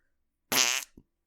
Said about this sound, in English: Just fart noises.